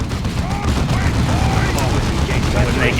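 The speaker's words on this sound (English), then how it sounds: "Devastator's ready to fire. Our heavy bolters are deadly" Heavy bolter gunfire in Warhammer 40,000 Dawn of War 2, a dense, continuous rattle of bursts with booming low end filling the whole stretch, under ongoing game noise.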